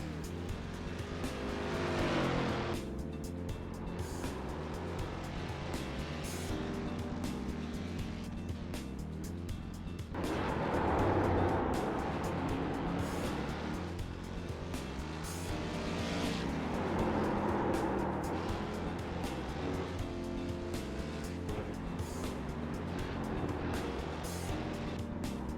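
A Ford Mustang FR500S race car laps Okayama in the iRacing simulator, its engine droning loud and steady, rising and falling through gear changes and corners, with brief tire squeal and no talking.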